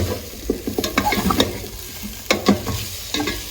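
Spice paste being stir-fried in a pan, close sizzling broken by repeated sharp scraping strokes of a spatula in an irregular rhythm.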